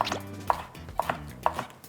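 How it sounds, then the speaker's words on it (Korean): A knife slices through a bell pepper laid skin-side down on a cutting board while vegetables are prepped for japchae, giving a few crisp, close chops spaced about half a second apart. "파프리카 써실 때는 껍질 쪽이 바닥에 닿게 썰어주셔야 미끄럽지 않아서 칼질하기 되게 편하거든요"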